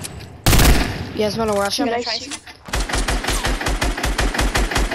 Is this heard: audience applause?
no